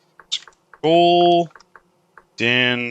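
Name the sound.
typing on a computer keyboard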